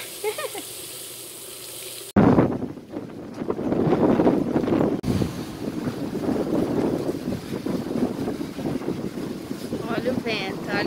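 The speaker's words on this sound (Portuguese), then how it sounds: "Olha o vento, olha." Gusty wind buffets the microphone in a loud, rough roar, with a brief quieter stretch before it and faint voices mixed in.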